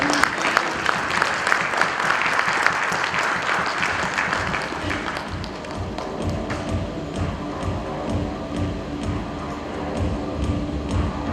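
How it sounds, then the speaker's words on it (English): Audience applause at a Pune leadership event, loud dense clapping for the first five seconds, then thinning into scattered claps and hall noise. "Maybe I have some applause from you."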